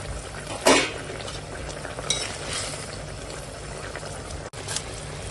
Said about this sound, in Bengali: এখন দিয়ে দেব এই ভেজে রাখা ভেন্ডি